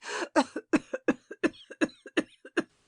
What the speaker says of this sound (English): her laugh ending in a cough